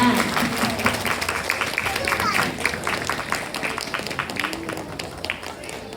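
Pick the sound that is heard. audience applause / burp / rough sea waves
audience applause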